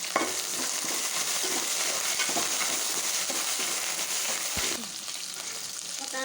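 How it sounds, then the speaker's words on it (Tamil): Onions and curry leaves fry in a pan for a fish curry, giving a steady, close sizzle that runs throughout with light stirring scrapes and a brief knock near the end, no voices. "வெங்காயம்லாம் நல்லா வதங்கி வந்துட்டு கொஞ்சோண்டு அதோட 2 கப்பு கருவேப்பிலையும் போட்டாச்சு"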